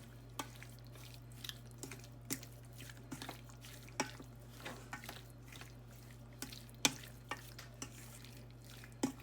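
Ingredients for chicken and egg noodles are mixed by hand in a bowl, giving soft, wet squishing and sticky tapping sounds in an irregular rhythm, faint and close, over a low steady hum.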